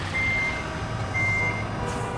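Reversing beeps from a truck in Truck Simulator Ultimate, two steady electronic tones spaced apart over a low rumbling engine and road noise, with no talk.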